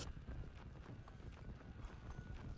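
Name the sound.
horse galloping, called by the player in the video game Red Dead Redemption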